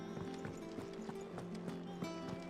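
In Final Fantasy XVI, a chocobo's feet patter in a quick, regular clip-clop rhythm, close and moderately quiet, over a sustained musical drone with no speech.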